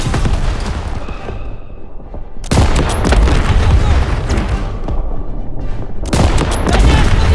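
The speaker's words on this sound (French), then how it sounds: "Fais sauter les réserves de munitions. Daniel, tire dans les réserves de munitions." Call of Duty WWII combat: heavy booming explosions of ammunition reserves burst in with dense rattling gunfire, loud and close, in two big waves over continuous battle noise.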